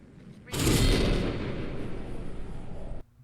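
Gunfire in the Apex Legends video game, a dense loud burst of shots starting abruptly and sustained for about two and a half seconds before cutting off sharply.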